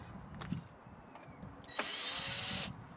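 Trim panel clips on a Jaguar XF being unscrewed, heard as a few light clicks followed by about a second of steady whirring, grinding noise, close by and with no talk.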